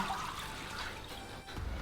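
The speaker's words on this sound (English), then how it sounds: "we've got the water coming from downstairs, upstairs, using the old Laguna pump. Things are a little bit faster these days, but still a trickle" Aquarium water pumped upstairs by an old Laguna pump trickles into a tank with a steady, soft splashing and gurgle that runs continuously throughout, with no voices.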